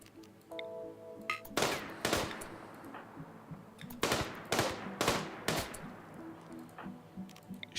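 Video game gunfire sounds as several sharp shots, single cracks and a quick pair, over a low mechanical hum and faint beeping tones, with some gaps between them.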